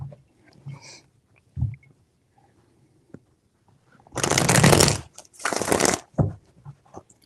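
Tarot cards shuffled in two long, loud riffling bursts, with a few soft handling taps and slides before and after.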